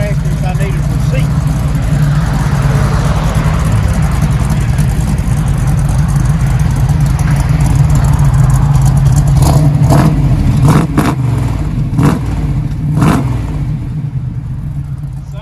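A restored 1969 Chevy Camaro Z/28 with Flowmaster Flow FX true dual exhaust, a loud, deep idle rumble that holds steady, then breaks into a few sharp revs near the end, with people talking over it.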